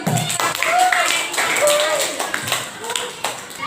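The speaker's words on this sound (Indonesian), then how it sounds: "Kita kasih tepuk tangan dulu" Classroom students clap their hands in a quick burst of claps mixed with children's voices and chatter in the room.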